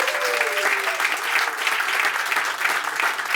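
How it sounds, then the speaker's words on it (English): An audience at a live stage show claps in a steady, dense wash of applause that carries on for the whole stretch, with no voices standing out. "Please give me my hand of applause."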